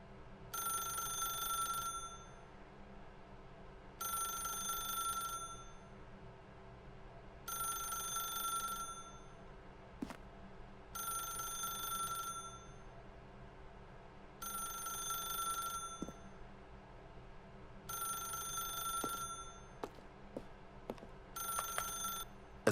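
A telephone rings in The Stanley Parable, seven evenly spaced bursts of bright electronic trilling separated by short gaps, clear and alone over a faint room hum.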